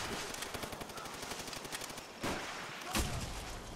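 Rapid automatic gunfire from a World at War shooter game rattles in a dense, fast burst, with a couple of heavier shots standing out near the end, fairly faint and with no voices.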